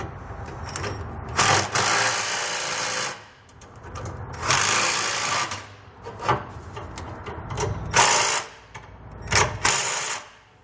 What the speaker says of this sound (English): then we can come back with a 1/2-inch socket and tighten them down